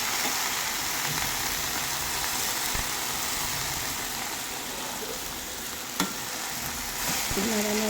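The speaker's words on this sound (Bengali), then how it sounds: "নাড়ানাড়ি করে এটাকে একবারই বসিয়ে দেওয়া হলো।" Dry fish is stirred and cooked in a pan over a steady, loud sizzle, with a single sharp clink from the utensil partway through and no talk.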